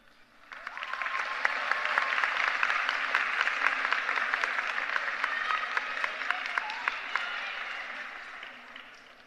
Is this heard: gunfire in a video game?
no